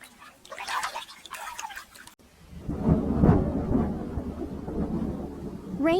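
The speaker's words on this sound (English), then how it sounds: "Rain rages on." Rain and thunder in a children's cartoon: a sharp crack followed by a deep, rolling rumble over steady rainfall, with lighter patter before the thunder breaks.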